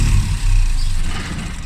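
A Mini car engine cranks and catches but fails to settle into an idle, giving a loud, close, rough sputtering engine roar that surges and then fades, with no voices.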